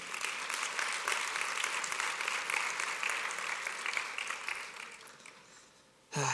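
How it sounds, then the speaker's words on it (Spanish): A church congregation applauds in a dense, even wash of clapping that holds steady for several seconds, then thins and fades. "Dele otro fuerte aplauso al Señor."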